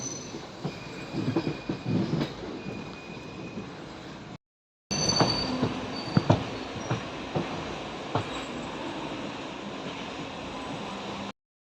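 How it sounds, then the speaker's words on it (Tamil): A superfast express train leaving Ernakulam Town rumbles along with clanking wagons and occasional wheel squeals, the noise building steadily after a brief break. "15 மினிட்ஸ் கழிச்சு எப்படியோ நம்மளோட ட்ரெயின் மூவ் ஆக ஆரம்பிச்சிச்சு எர்ணாகுளம் டவுன்லேருந்து"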